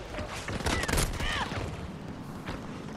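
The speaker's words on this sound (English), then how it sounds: "Fucking laser beamed me from 80 meters away with a submachine gun." In Battlefield 2042, rapid submachine gun bursts crackle with a loud cluster of shots early on. The fire then thins into scattered gunfire and game effects.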